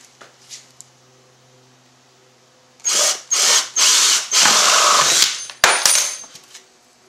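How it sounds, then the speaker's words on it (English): A power drill bores a 5/8 inch hole into a plastic bucket for a gravity-fed water filter, loud close whirring bursts with short pauses between them. "I'm going to get ready to drill"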